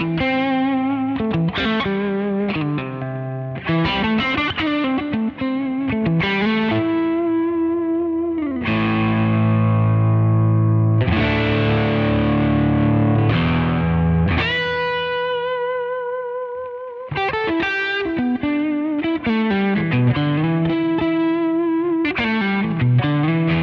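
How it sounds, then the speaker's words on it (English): An electric guitar plays through a Klon overdrive pedal with the gain turned almost all the way down, giving lightly driven chords and melodic lines with sustained, ringing notes and a touch of reverb. "So there's a Klon with the gain more or less all the way back."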